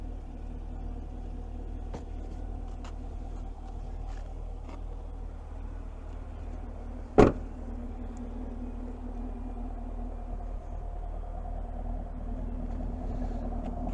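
A 2022 Chevrolet Camaro 1SS 1LE idles through its exhaust with a quiet, steady low rumble, broken once by a sharp single click midway.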